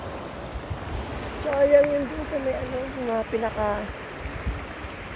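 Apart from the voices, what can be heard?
stream flowing in a park in Shizuoka, Japan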